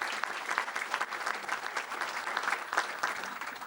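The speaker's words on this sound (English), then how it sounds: "I think we should all clap for her leadership" Audience at a tourism forum applauding for a leader, fairly soft and somewhat distant, a dense crowd of hands clapping steadily with small swells.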